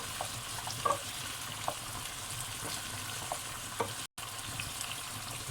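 Tomato and garlic frying with onions in a pan, a steady close sizzle broken by a few soft clinks and stirring knocks, with no talk.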